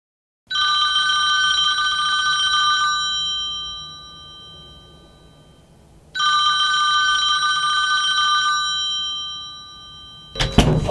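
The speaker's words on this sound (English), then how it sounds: "She's actually ringing me." A mobile phone rings with an incoming call, two long bursts of a bright repeating electronic ringtone separated by a short gap, loud and close, followed by a brief clatter at the end.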